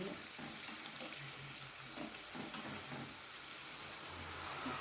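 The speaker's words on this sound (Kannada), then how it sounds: "ಈ ಥರ ಬ್ರೌನ್ ಕಲರ್ ಬರೋವರೆಗೂ ಕರಿಬೇಕು ಸಣ್ಣ ಉರಿಯಲ್ಲಿ" Spicy shankarpali frying in oil over a low flame, giving a steady, soft sizzle and faint bubbling that runs continuously at moderate distance with no talk.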